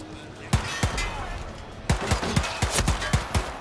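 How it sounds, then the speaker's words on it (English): Rapid bursts of gunfire from shooting at security guards in the game Hitman: World of Assassination on iPhone, sharp repeated shots in two clusters with brief pauses between. "so we'll just start shooting at them"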